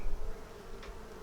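Honey bees buzzing around an open hive during an inspection: a soft, continuous hum close by, with a brief louder bump at the start.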